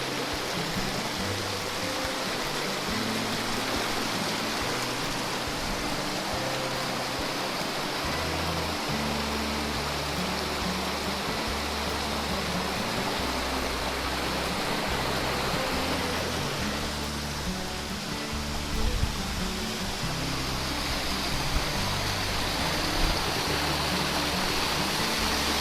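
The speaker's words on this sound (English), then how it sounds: "You can see the water starts dropping the levels here, and it just keeps on climbing down" Rushing water from a waterfall and stream in the Cheaha Wilderness roars as a constant, loud, broadband wash, steady and unbroken throughout with no voices.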